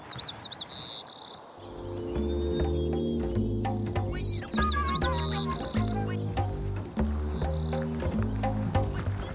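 A small songbird with a white-striped head sings a few clear, high whistled phrases that repeat at intervals over a steady low musical backdrop.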